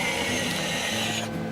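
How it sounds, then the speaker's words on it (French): Motorized steering wheel of a Peugeot e-Legend concept car retracting into the dashboard, a steady close mechanical whir with faint gear clicking that stops near the end. "on a le volant qui s'efface entièrement dans la planche de bord"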